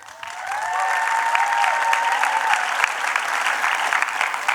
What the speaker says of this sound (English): show them another round of applause, please